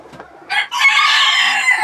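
A rooster crows loudly and close by at a gamecock breeding farm, one sustained crow after a short clucking lead-in.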